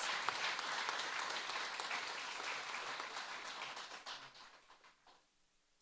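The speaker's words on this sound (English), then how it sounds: "So please give them both a round of applause" Audience applause for two debaters at a Leeward Islands debating competition, a dense burst of clapping that holds steady and then thins out and fades to near silence.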